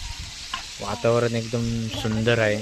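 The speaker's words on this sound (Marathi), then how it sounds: "आता टोमॅटो टाकलेला आहे, आता थोडा हलवून घेत आहे." Tomato, curry leaves and onion stirred in a pan over a village cooking fire, a steady frying hiss running beneath a person talking for most of the clip.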